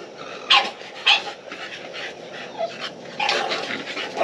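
An American Bully or English Bulldog pants rapidly nearby, with a few sharp whimpers and yips breaking through the steady breathy rhythm; no talking.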